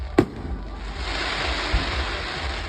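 A bonfire night fireworks display, with one sharp distant bang at the start, then a rolling crackle and hiss with another faint boom, all outdoors under steady wind noise.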